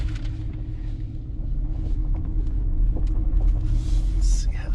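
A 2019 Ford F-150 custom truck with a converted 5.0 engine pulls hard, a steady loud low rumble building from the cabin with wind noise, while someone talks over it.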